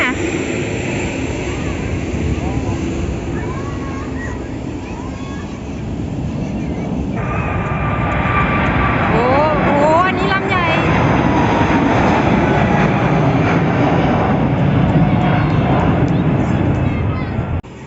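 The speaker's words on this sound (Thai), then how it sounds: "น่าจะเป็นเครื่องบินส่วนตัว" A private aircraft taxis at an airport as heard from an observation deck, a steady loud engine roar with rising and falling whine and rumble across the whole stretch, with voices talking over it.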